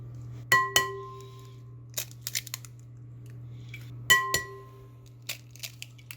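Milk poured and eggs cracked into a bowl while baking Yorkshire puddings or popovers: a few sharp glassy clinks and knocks spaced over several seconds, with light handling sounds between, over a steady low hum.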